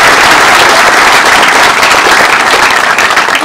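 A community-centre audience gives a dense, loud round of applause, steady and continuous throughout, with many hands clapping at once.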